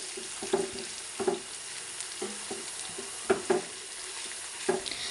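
Bitter gourd slices for pavakka pachadi fry in oil, giving a steady close sizzle with periodic clicks and scrapes of stirring, roughly once a second, and no talk.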